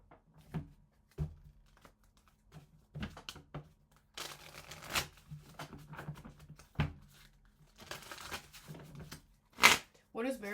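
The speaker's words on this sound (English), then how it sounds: "let me pull some cards before I talk." Tarot cards are shuffled and pulled by hand, giving a string of soft riffling and brisk papery snaps of varying length close by, with brief talk around them.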